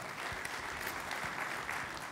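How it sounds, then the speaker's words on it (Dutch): Audience applause at a closing debate of provincial list leaders in Overijssel, steady dense clapping from a crowd throughout, sustained and moderately loud with no voices. "Dames en heren, applaus voor Rob de Koe."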